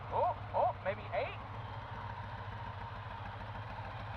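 A 1983 Chevrolet C10 truck engine idles steadily with a low, even rumble, its sound partly masked by a voice over the first second or so.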